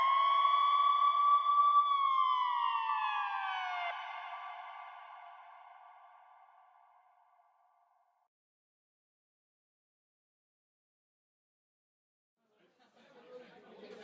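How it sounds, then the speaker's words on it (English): An ambulance siren wails in a single tone that drops in pitch and slowly fades away to silence, then faint voices begin chattering near the end. "the paramedics are outside with an ambulance"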